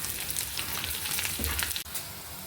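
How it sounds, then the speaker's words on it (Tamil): Tempering for a spinach curry sizzles and crackles in hot oil, with garlic and onion, a dense steady frying hiss up close that breaks off briefly near the end. "இப்போ தாளிப்பு அதில் கொட்டி"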